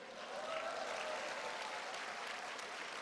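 Enthusiastic audience applause at a Korean business lecture, a steady dense wash of many hands clapping, fairly faint and distant, continuous throughout without clear speech.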